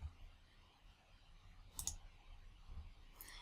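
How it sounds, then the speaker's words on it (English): A couple of faint, crisp computer mouse clicks on a quiet desk while working in 3Shape dental design software, two small taps spaced over a few seconds. "So I'm going to click Next."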